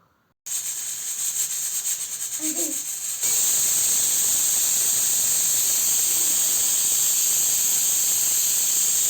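Steam hisses steadily from a pressure cooker while cooker biryani is being made, a broad, loud rush that grows stronger partway through and then continues unbroken.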